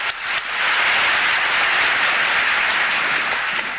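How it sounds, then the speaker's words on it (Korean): Applause from a church congregation at a TB Joshua service, a dense, loud, continuous crowd clapping that swells quickly and holds steady for several seconds with no talk over it. "이렇게 박수로 감사해 주겠습니다"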